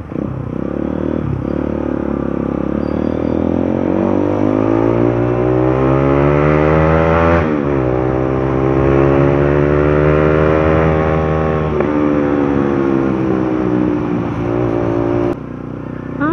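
A motorcycle engine revs loud and close, its pitch rising and falling in long sweeps, running continuously.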